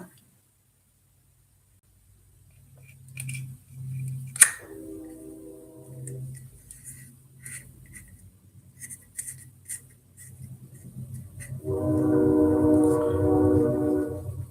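A train passes near a home workshop, giving a low rumble that builds toward the end, with a tonal horn-like blare near the finish and earlier. Scattered clicks and a sharp knock sit over it.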